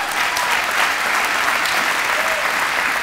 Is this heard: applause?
yes